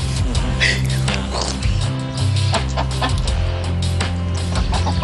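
Chicken clucking close by in short repeated bursts over a dense, busy background with steady low rumble and other noise.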